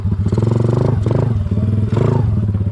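A Honda ATC 70 three-wheeler runs close by, its small engine making a loud, choppy putter with quick rising revs and a little mechanical clatter, and no voices over it.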